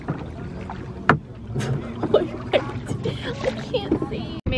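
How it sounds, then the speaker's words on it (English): Oars work a rented rowboat on a lake, with uneven splashes and knocks amid light wind noise and a few faint voices in the background. "Rowing did not last long."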